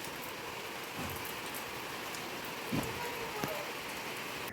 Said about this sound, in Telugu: మీ దగ్గర కూడా వర్షం వస్తుందా అండి వాతావరణం అయితే మొత్తం తెల్లగా మబ్బు పట్టింది